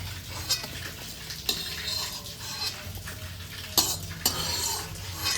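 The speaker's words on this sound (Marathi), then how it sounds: "तीस ग्राम बदाम फूल घेतलेले आहेत जे की आपल्याला कढईमध्ये भाजून तळून घ्यायचेत" Star anise (badam phool) fries in a kadai with a soft, steady sizzle, as a spoon stirs and scrapes against the metal and gives a few sharper clinks, all close and without any voices.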